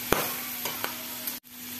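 Dried salted squid and stink beans frying in a pan as a spatula stirs them, with a soft steady sizzle and a few light scraping taps, close and brief.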